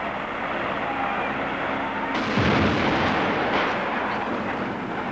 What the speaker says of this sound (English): A crew of true demolition men will blast the building with dynamite.